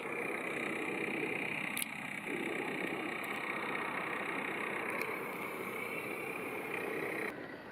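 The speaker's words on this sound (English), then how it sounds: "I'm sorry for the noise, but there are some construction works going on like almost everywhere." Steady construction machinery noise from works near Göreme in Cappadocia, Turkey: a continuous engine drone with a high whine, sharp brief knocks at intervals, and the sound cutting off abruptly near the end.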